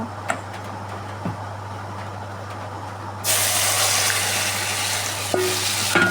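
An egg drops into hot oil in a kadai and sets off a sudden loud, steady sizzle that holds close and continuous after a few seconds of quiet room hum.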